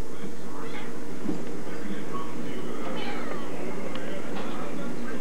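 A cat meows a few times at mid distance, the calls faint and scattered over a steady low room hum, with a person's voice calling in between.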